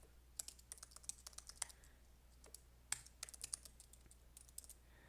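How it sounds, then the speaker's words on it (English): Quiet, irregular clicking of keys on a computer keyboard, typed in short bursts with brief pauses, close by and without any voices. "For user, we will be typing here our email account."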